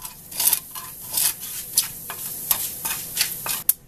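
Salt, garam masala, chili powder and coriander powder are stirred into a pan, making close scraping strokes in an uneven rhythm with a faint sizzle and a sharp clink at the end.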